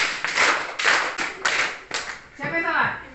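A few people clap in short bursts, several sharp claps in a loose rhythm, with a voice speaking over the end.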